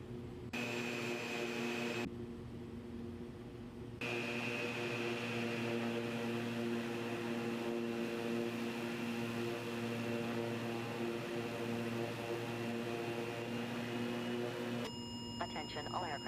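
Steady drone of an aircraft engine in the X-Plane 12 flight simulator during snowy icing conditions, a constant tonal hum that holds for the whole stretch with brief shifts in character near the start and end.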